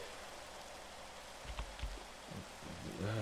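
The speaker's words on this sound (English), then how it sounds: "I like playing in the rain." Soft, steady hiss of rain falling in the Minecraft survival game, with a few faint thuds and a low rumble toward the end.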